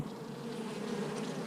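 Honey bees swarm around an open hive, a steady, close, continuous buzzing hum with no voices over it.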